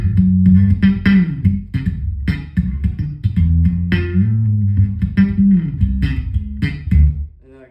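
A bass guitar played through an Ampeg Venture V7 amp with the ultra low boost engaged: loud, thick, deep notes in a choppy riff with pauses between phrases, heard alone and fading at the end.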